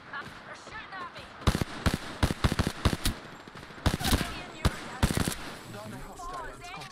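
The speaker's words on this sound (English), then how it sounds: "They're shooting at me!" Apex Legends gunfire rattles in quick automatic bursts, loud sharp cracks clustered in rapid volleys with short gaps between them, a voice talking under the shooting.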